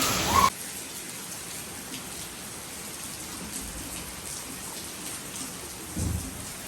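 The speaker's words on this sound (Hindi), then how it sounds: "बारिश भी हो रही है।" Steady rain falls outdoors in stormy weather, a dense, even hiss with a couple of brief louder bursts, and no voices.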